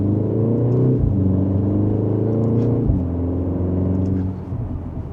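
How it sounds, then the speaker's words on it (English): A 2025 BMW M235 xDrive Gran Coupe engine pulls hard under acceleration, a loud steady low rumble with rising harmonics, a brief shift-like break near the middle, then easing slightly as it settles. "we'll go ahead and give it one more acceleration"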